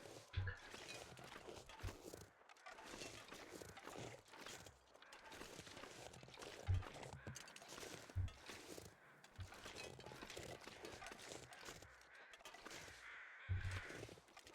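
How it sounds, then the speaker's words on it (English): Decoy crows caw repeatedly in the survival video game The Long Dark, harsh calls scattered over a windy outdoor ambience with occasional footstep crunches and soft thuds. "Decoy crows."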